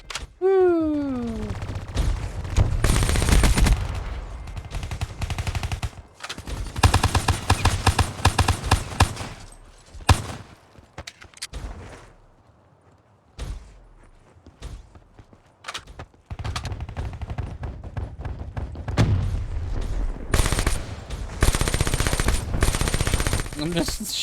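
Rapid automatic gunfire in Black Ops 3 on PS3 rattles in long, loud bursts, broken by a quieter stretch midway with scattered shots and game noise before sustained firing resumes.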